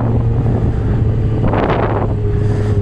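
Steady, loud wind roar buffets the microphone as a Suzuki GSX-R 750 motorcycle cruises along a motorway, with a low engine hum running underneath throughout.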